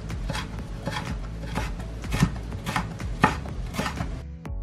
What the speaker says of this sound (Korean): 그리고 가늘게 어슷 썰어서 준비해 주시면 된답니다.